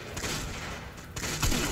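A burst of rapid gunfire in a multiplayer shooter, dense repeated shots filling the short moment at close range, with a louder crack near the end.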